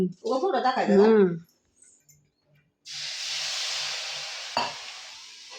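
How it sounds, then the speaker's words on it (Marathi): Jaggery melting in a pan while being stirred for sesame chikki, a steady sizzling hiss rising after a voice speaks briefly, with one sharp scrape near the end. "आता बघा पुढं प्रोसेस चालू झालेली आहे इथं गुळ आपल्याला वितळून घ्यायचा आहे"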